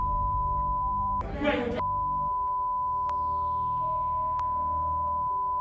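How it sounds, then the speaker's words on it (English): A steady high censor beep tone runs through the whole clip, with a brief burst of muffled sound partway in and faint clicks. "All I hear is beeping in my ear."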